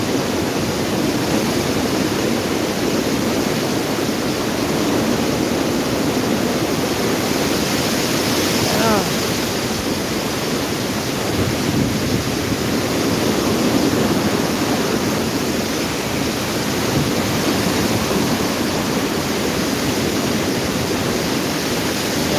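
Strong typhoon wind from Typhoon Uwan roars steadily across Camarines Sur, Bicol, a dense, unbroken rushing noise with gusty surges around the middle, loud and close throughout.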